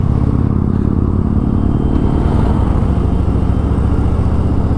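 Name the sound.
Harley-Davidson Fat Boy motorcycle engine throbbing while riding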